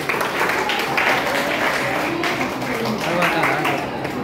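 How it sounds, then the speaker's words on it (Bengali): Applause from a group of schoolchildren at a quiz competition, a dense, steady wash of clapping lasting a few seconds, close and fairly loud, with voices mixed in. "হাততালি।"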